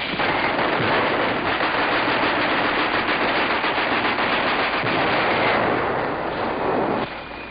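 Rifles, machine guns and bazookas firing in a 1945 wartime battle as a platoon clears out enemy snipers, a dense, continuous roar of loud gunfire and bursts with no let-up, easing slightly near the end.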